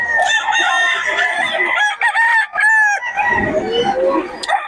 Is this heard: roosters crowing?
yes